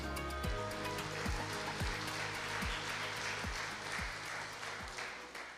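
Applause from a church congregation welcoming a guest preacher, an even wash of clapping with a steady low thumping beat running beneath it throughout.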